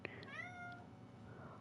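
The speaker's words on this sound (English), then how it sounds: "If you hear my cat, he's deciding to meow because I'm talking." A pet cat meows indoors near someone playing a video game, one drawn-out rising and falling meow preceded by a short chirp, fairly faint and heard alone without talk.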